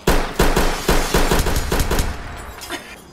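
Rapid bursts of automatic gunfire in a multiplayer shooter video game, about eight loud, evenly spaced volleys close up, thinning out and fading over the last second.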